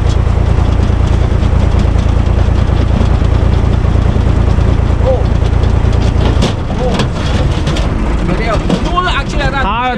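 A UTB 445 DT 4x4 tractor engine runs steadily while splitting wood, a loud low rumble that drops in level partway through, with people shouting over it.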